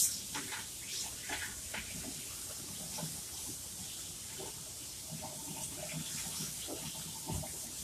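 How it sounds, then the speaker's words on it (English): Tap water runs steadily into a sink while hands are washed beneath it, a close, continuous splashing hiss with small shifts as the hands move through the stream. "temporary break while I wash my hands real quick"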